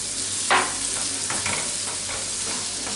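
Onions, meat and filling for a Turkish pastry stir-fried in a pan, with a soft steady sizzle, spoon scrapes and stirring knocks close by, no talking.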